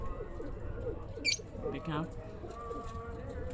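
Fighter pigeons, a ruddy mottled bird among them, coo softly in short bursts amid a busy background, with someone talking over them.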